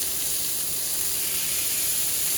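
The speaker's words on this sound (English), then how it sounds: "Ooh, look at that sizzle" Sous vide steak sizzling hard in a hot pan as a butter and herb mixture is poured over it, a steady loud hiss of frying with a continuous broadband spatter and no pauses.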